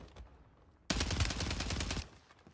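Sustained rapid bursts of gunfire from a one-shot Lockwood 680 loadout in a Warzone 3 match, loud and dense for about a second after a quieter stretch, then dropping back to low background noise.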